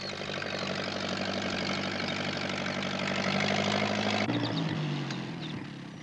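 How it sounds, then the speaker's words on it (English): A tractor engine chugs steadily at a low idle, loud and close, holding a constant drone before dropping in pitch near the end. "Pat wasn't sure that he wanted to ride on a tractor"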